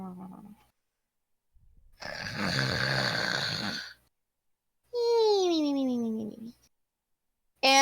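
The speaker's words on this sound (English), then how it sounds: "appears to be snoring like a train" A cartoon character snores loudly, like a train: a long rasping inhale and a rising whistling exhale, separated by short silences, close and alone.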